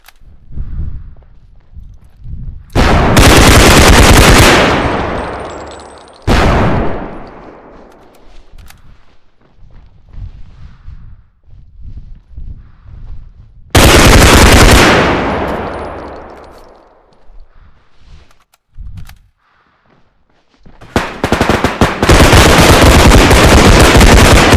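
Loud gunfire from a realistic bodycam-style first-person shooter video game: three long bursts of rapid automatic fire, close and harsh, separated by quieter stretches of movement and faint thuds.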